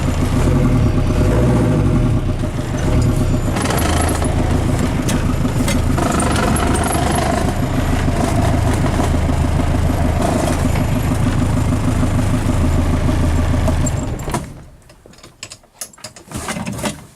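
A Land Rover engine runs in low range gear, a loud steady mechanical drone with gear whine and clattering that carries on for about fourteen seconds, then cuts off, leaving faint knocks.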